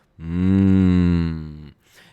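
A cow moos once in a long, loud, deep sound effect that holds for about a second and a half before cutting off, followed by a faint breathy tail.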